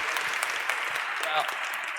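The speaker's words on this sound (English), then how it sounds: "Another round of applause for our creative leader." A conference audience applauds a creative leader's talk, with dense, steady clapping at moderate volume throughout and no gaps.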